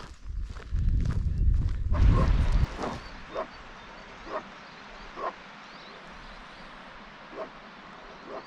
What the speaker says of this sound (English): Is that another dog half crazy at a Cortico?